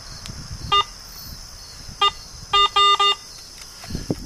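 A Garrett metal detector being switched on gives a series of short electronic beeps, one, then another, then a quick cluster of three, close and clear over faint handling noise.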